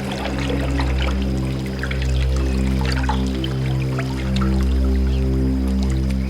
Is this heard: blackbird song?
no